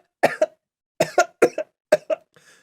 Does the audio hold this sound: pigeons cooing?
no